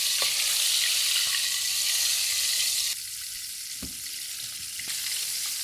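Chinese sausage shrimp rolls frying in a pan, a dense continuous sizzle with a few small pops and a brief drop in intensity midway, close and alone.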